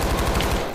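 Rapid automatic gunfire from a video game rattles loud and close in a fast burst of repeated shots.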